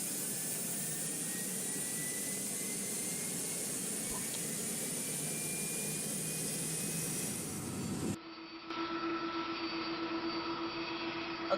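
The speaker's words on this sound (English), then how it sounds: "Okay, so engines are started." Aircraft jet engines spooling up in early morning, a steady loud roar with a rising whine and a faint climbing tone, then an abrupt shift to a quieter steady hum with a held tone near the end, no talk.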